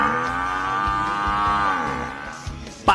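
A water buffalo, or carabao, moos in a long, loud, drawn-out call that swells and then fades over about two seconds, followed by a couple of short knocks and a sharp thump at the end.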